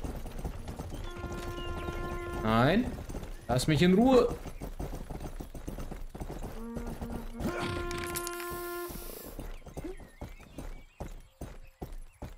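Horse hooves clip-clop in the video game Rustler, a steady run of sharp regular hoofbeats under frequent spoken talk, with a short whinny-like burst partway through.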